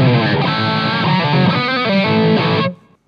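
High-gain electric guitar through a Blackstar Silverline amp, a dense distorted chord phrase played loud and close that stops abruptly near the end.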